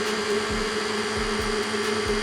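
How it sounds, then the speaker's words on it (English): Stand mixer running on its lowest speed with a dough hook kneading brioche dough for beignets, a steady motor whine with a rhythmic thump as the hook turns, continuous and close. "I'm going to mix it on speed 1 until everything is combined"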